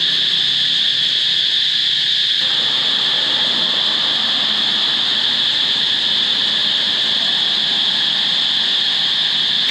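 Cicadas in trees in Vientiane, Laos, drone in a loud, continuous high-pitched buzz that holds steady throughout, with a faint broadband hiss of the surroundings beneath and no voices.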